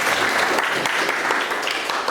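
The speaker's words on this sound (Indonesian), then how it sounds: "Tepuk tangan buat." Students in a classroom during an Islamic studies lesson applaud together, a loud, dense wash of clapping that stays steady for two seconds without letup.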